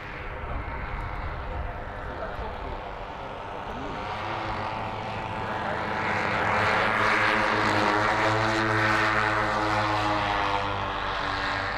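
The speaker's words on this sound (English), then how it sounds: "So what sort of planes have we got flying here then today?" Model airplane flying at an outdoor model air show, propeller engine droning with a shifting pitch that grows louder as it approaches, steady and continuous.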